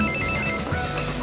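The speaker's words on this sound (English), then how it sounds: "Well, it was ringing, and I thought it might be urgent" Telephone ringing in a busy restaurant, a steady electronic ring heard close over dense background clatter and murmur.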